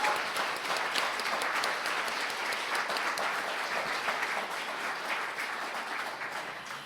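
Sustained applause from a large crowd at a 2023 agricultural award ceremony in Korea: dense, steady clapping that carries on evenly and eases off slightly at the end.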